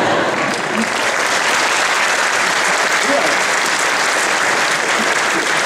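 Lecture audience applauding at a religious talk, a dense steady wash of many hands clapping that fills the whole stretch without breaks.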